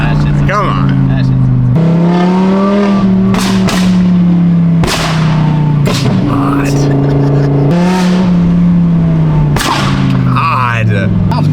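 An Audi R8 with a very loud exhaust revs hard to high RPM in repeated bursts, with sharp cracks and pops between pulls, close and dominant, with voices occasionally underneath.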